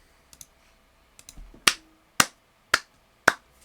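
A few faint clicks, then four sharp, slow hand claps, evenly spaced about half a second apart, close and crisp.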